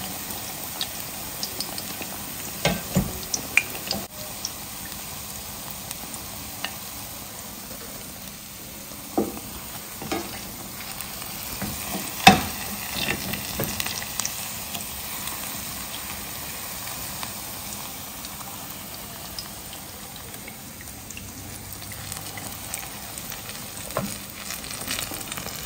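Onions frying in palm oil, a continuous crackling sizzle with scattered pops and stirring clicks that runs for a long stretch, close and moderately loud, with no speech.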